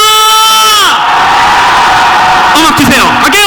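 A church congregation in a large sanctuary with an upper balcony shouts and cheers together, a loud sustained crowd roar of whoops and yells that swells, dips briefly, then surges again.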